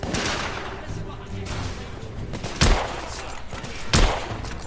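Rifle fire in the video game The Order: 1886 cracks out in two sharp, loud shots over a busy shootout backdrop at the docks.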